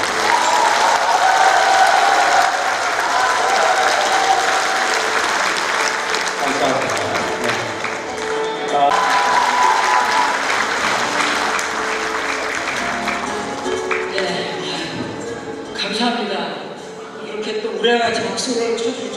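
Party members applaud at a political party education event in Icheon, a broad sustained clapping wash with crowd noise and voices mixed in throughout.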